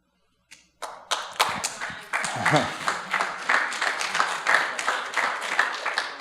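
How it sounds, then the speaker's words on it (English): An audience at a church talk by a guest speaker breaks into applause, starting with a few scattered claps that quickly swell into steady, rhythmic group clapping, fairly close and sustained. "That does deserve an applause."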